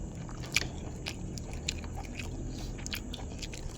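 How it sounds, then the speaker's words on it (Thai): Close, crisp crunching and chewing of bean sprouts eaten with beef noodle soup, with repeated sharp bites standing out over steady mouth sounds and no talking. "มากินถั่วงอกทุกคน"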